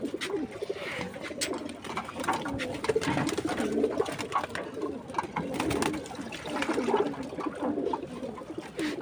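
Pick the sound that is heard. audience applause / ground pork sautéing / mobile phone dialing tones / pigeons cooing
pigeons cooing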